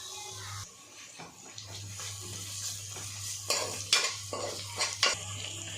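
Onions, green chillies and ginger-garlic paste fry in a pan, with soft steady sizzling, occasional stirring scrapes and a few louder clinks of a spoon toward the end, with no talking.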